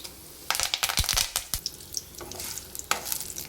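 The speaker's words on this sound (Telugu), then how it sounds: "పోపు అయితే ఇలా వేగిపోయింది పోపు బాగా మాడనియొద్దు" Tempering spices, mustard seeds and cumin, fry in hot oil and are stirred in a pan for a ridge gourd chutney, with sharp clinks and scraping bursts over a continuous close sizzle and no speech.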